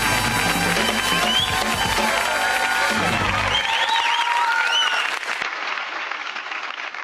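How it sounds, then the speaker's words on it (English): A studio audience at a sitcom taping cheers and applauds loudly as two characters walk on, a dense clapping roar with whoops that thins out and fades toward the end. "the crowd just cheered like fuck then"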